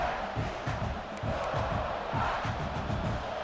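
A stadium crowd at a football game roars and cheers in a dense, continuous wall of voices, loud and steady throughout.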